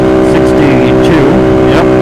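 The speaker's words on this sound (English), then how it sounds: "I'm just now hitting red line in third" A motorcycle engine wails near redline in third gear while riding in traffic, a steady high-pitched harmonic drone with slight pitch sweeps, loud and close, mixed with wind rush and a rider talking over it.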